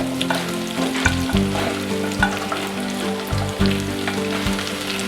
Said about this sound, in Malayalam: സവാള ട്രാൻസ്പെറൻ്റ് ആകുന്നത് വരെ ഇളക്കുക. അതിനുശേഷം ഉരുളക്കിഴങ്ങ് ഇടുക.